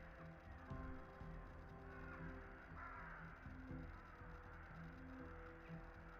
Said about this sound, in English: these ravens and crows, ravens or crows, sound angry.